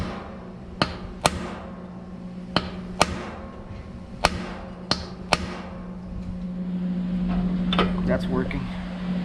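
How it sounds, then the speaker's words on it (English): A big bolt is hammered down onto a JOST SK37U truck fifth wheel, giving about nine sharp metallic strikes at irregular spacing over a steady hum, close and clear with a voice speaking underneath. "I'm gonna use this big bolt I found and just kind of hammer it down."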